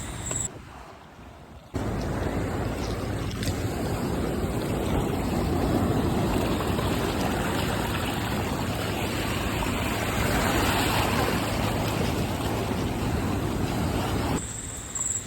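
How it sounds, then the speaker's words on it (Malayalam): Seawater surges back off flooded Munambam beach as a broad, steady roar of rushing water and wind buffeting the microphone, loud and continuous for most of the stretch, with quieter moments at the start and end. "ഇത് കുറച്ച് സ്പീഡിൽ വെള്ളം ഇറങ്ങിപ്പോണ ഒരു സീനോടെ ഉണ്ട്"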